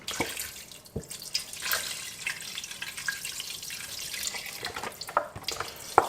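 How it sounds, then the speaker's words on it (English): Beef broth pours steadily into an Instant Pot, a continuous splashing liquid stream with a few sharper splats, close and alone without talk. "we're gonna just go ahead and add in all the beef broth that we can."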